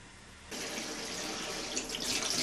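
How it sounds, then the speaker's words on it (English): A tap suddenly opens and water runs steadily into a sink for washing a polymer printing plate, a close, even hiss that stays alone without talk. "we need to use a water and a sink"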